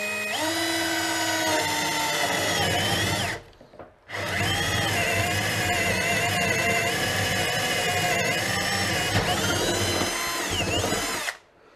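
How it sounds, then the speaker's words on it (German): Power drill boring a hole through a wooden cabinet while fitting an Osmotech reverse-osmosis unit: two long, loud, steady whirring runs with a brief pause between them, alone without talk. "Also bohren wir mal durch."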